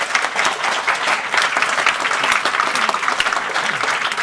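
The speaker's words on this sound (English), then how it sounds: "can we have a little bit of a round of applause for our speakers" A conference audience gives its speakers a round of applause at a session on sustainable raw materials and automotive industry, with steady, dense clapping filling the room for the whole stretch.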